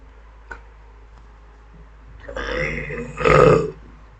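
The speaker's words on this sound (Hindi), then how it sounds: "खाना खाने के बाद ना एक अजीब थोड़ा सा डकार जैसे लगता है ना।" A person lets out a burp after eating, a faint click first, then a longer, rising belch that turns into a louder, voiced eructation near the end, close and in a quiet room.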